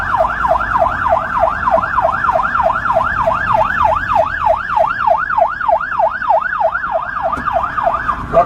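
An ambulance siren in Thai traffic, a loud, fast, regular wailing sweep that keeps repeating over the low rumble of road noise.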